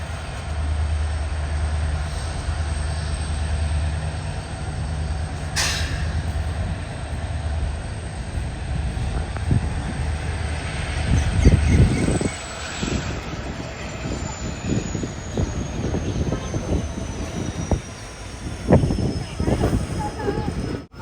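A Mysuru to Chamarajanagar passenger train pulls out of Nanjangud station, with steady engine rumble and rising clatter of wheels over rail joints heard from onboard, plus a sharp tone partway through.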